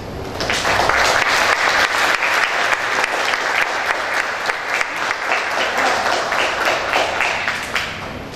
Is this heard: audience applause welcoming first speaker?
yes